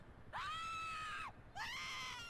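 A female video game character lets out two drawn-out, shrill screams, each wavering and then trailing off, separated by a short pause.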